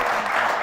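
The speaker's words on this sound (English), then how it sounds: "a round of applause for them" A conference audience claps for a panel, a short dense burst of applause, close and fairly loud.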